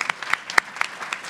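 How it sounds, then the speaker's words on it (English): Sparse, scattered claps from a small conference audience, a handful of sharp hits spread over about a second, fairly faint and without voices. "can we get a round of applause for the AV people?"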